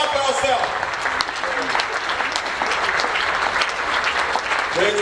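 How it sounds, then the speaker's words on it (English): An audience claps steadily and loudly at a summit gathering, a dense sustained wash of hands with no break. "Clap for yourself."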